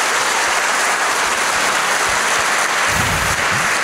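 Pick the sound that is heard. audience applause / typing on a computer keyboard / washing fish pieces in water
audience applause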